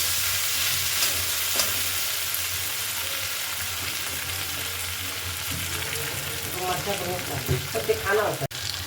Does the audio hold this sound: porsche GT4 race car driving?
no